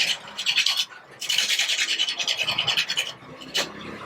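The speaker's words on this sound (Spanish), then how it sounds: "una superficie áspera como la que me proporciona este tabique me funciona como una lija" A small wooden stick is rasped against a rough brick partition wall, used like sandpaper on a sculpture piece: bursts of gritty scraping strokes, close and fairly loud, with a short pause, then a sharper final scrape.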